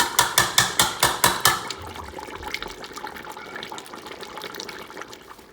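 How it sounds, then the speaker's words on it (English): Water is poured into a pot of cooking oxtails, a steady splashing stream following a quick burst of rhythmic knocks at the start, close and moderately loud. "so I went in with some more water"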